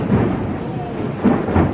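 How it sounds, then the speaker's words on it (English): Thunder booms through a heavy tropical rainstorm on Koh Tao island, with low rumbling bursts rising over a steady wash of pouring rain. "Oh, that was huge. That is so loud."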